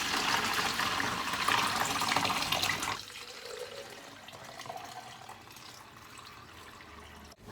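Juice streams through a strainer into a container, a close splashing pour for about three seconds that drops away to quiet trickling and faint drips.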